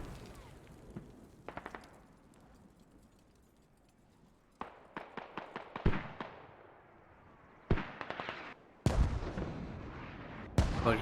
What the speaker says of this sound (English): As here comes some mortars